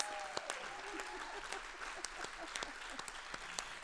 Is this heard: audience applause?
yes